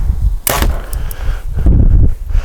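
An arrow loosed from a bow at a 10-yard target on a windy outdoor range, a sharp release snap followed by a short whoosh and a solid thump into the target, with breezy background noise.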